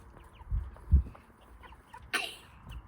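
Meat chickens out on grass give a few soft, scattered clucks, followed by one sharper, louder squawk near the end, over a quiet outdoor background.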